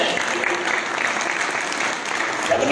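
Audience clapping steadily at a devotional gathering, dense continuous applause close by with no pause, a faint voice underneath.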